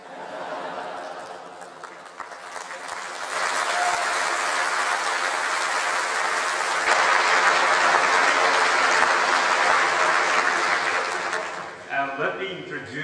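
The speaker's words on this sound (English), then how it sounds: "I never get such nice applause from the Japanese dialect." Sustained applause fills the US Congress chamber for Japan's prime minister, a dense broad roar that swells and holds steady, then fades as a voice begins speaking near the end.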